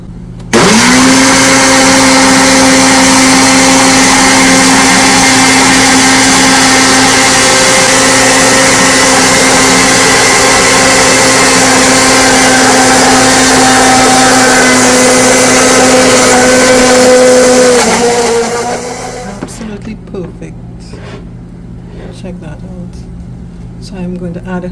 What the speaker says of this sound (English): And let's blend that up.